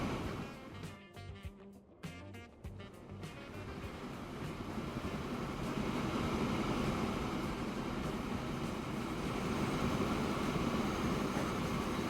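A train rolling along in the rail-building game Transport Fever 2 on the Crater Bay map, a steady low rumble and clatter that swells and holds loud through the second half, with no talking.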